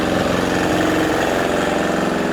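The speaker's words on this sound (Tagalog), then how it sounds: "Gamit ko dito is, diesel, makina lang." Diesel engine driving a water pump at a hog farm, a loud, steady close mechanical drone with an even throbbing pulse and no voices.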